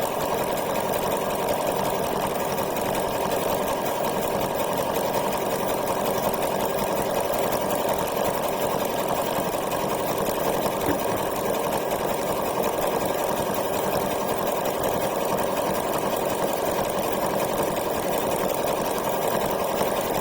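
A sewing machine runs a satin stitch at slow speed, a steady, continuous mechanical hum and rapid needle rattle holding at an even level throughout, close by and with no voices.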